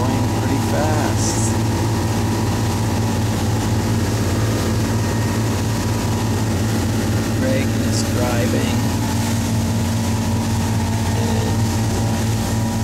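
Boat engines run at about 3,000 RPM while the boat moves fast on a test drive, giving a loud, steady droning hum throughout, with someone talking over it.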